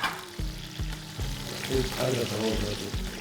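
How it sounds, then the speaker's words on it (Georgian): Onion sizzles in hot lamb fat in a pan, a steady close crackle with rhythmic scraping strokes as it is stirred, faint voices in the background. "ამ ცხიმშივე უნდა შეიწვას ხახვა."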